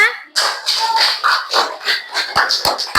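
Students clapping hands in a physical education class, a short burst of several uneven claps close by, with a few sharp taps near the end.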